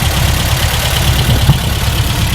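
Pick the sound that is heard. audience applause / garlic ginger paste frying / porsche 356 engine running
porsche 356 engine running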